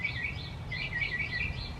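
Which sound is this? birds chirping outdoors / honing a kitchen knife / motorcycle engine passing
birds chirping outdoors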